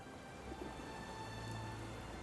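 Steady rain falls on a street outside a flower shop in the video game Sherlock Holmes The Awakened, a soft, even hiss at low level with no voices.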